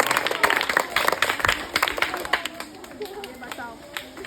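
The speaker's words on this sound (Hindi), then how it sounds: "ताली बजाओ रोशनी के लिए" Schoolchildren in a classroom clap their hands for a classmate, uneven bursts of claps that taper off toward the end while voices chatter underneath.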